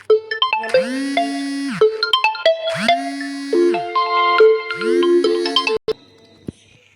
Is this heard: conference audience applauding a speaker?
no